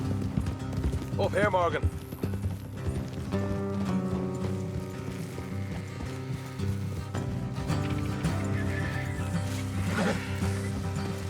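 Horses ridden along an off-road trail in Red Dead Redemption 2, with steady clip-clop hoofbeats under an orchestral score and someone speaking briefly, plus a short whinny-like call early on.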